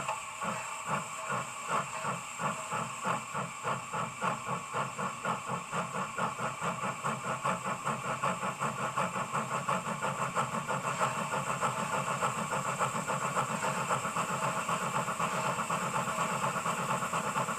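A model steam locomotive with an ESU sound decoder chuffs in a steady, quickening rhythm under a constant loud hiss of steam, close and continuous, with the beats blurring together as it reaches speed.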